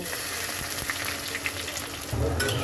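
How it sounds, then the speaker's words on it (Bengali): Chopped onion fries in hot oil with whole cumin seeds and bay leaf, giving a close, steady crackling sizzle with a louder burst of bubbling near the end. "পেঁয়াজটাকে খুব সুন্দর করে ভেজে নেব।"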